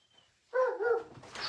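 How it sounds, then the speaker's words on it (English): A dog kept indoors lets out a couple of short, close barks after a quiet moment, the second trailing into a yelp. "now he's decided he's gone from singing to barking."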